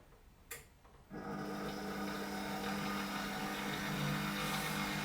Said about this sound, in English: So now I'm just going to whisk it on low just to get that sugar dissolved in.